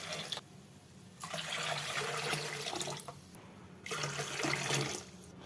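Water pours into tamarind juice for rasam in a home kitchen, two bursts of splashing flow about two seconds each with a quiet pause between, close and fairly loud.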